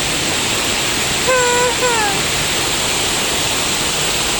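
Steady broadband rush of a waterfall in a forest, constant and enveloping, with a brief voice-like call rising over it partway through.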